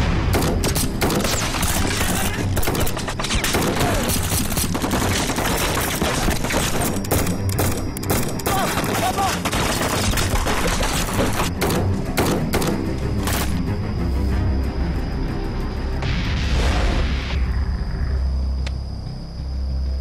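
Sustained heavy gunfire from a Gatling machine gun in a war drama battle scene, a loud dense barrage of rapid shots and thuds running almost continuously throughout, with no talk over it.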